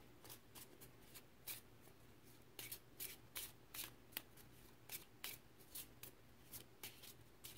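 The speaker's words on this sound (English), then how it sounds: "Let me get the cards all shuffled up here" Crisp riffling and flicking of a card deck being shuffled, in quick repeated bursts with short pauses between, close and fairly quiet.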